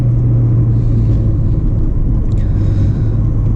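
An Acura RSX Base engine runs with a steady, deep rumble close by, loud and continuous with no talking.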